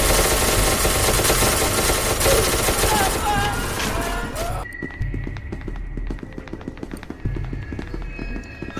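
Gunfire in a haunted-mansion game scene: a loud, dense barrage of rapid shots for about five seconds, then thinning into scattered, sharp single cracks.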